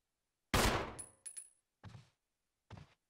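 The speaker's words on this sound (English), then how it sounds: "Fire a shot." A loud, close gunshot bursts out in the Resident Evil 1 Remake video game, with a short ringing tail, followed by three fainter, evenly spaced thuds over the next two seconds.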